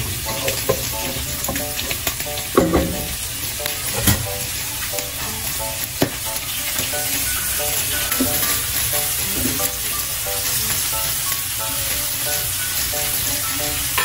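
Butter and a little oil sizzle steadily in a pan for seafood with garlic butter sauce, a continuous crackling fry with scattered pops and stirring scrapes and no talking.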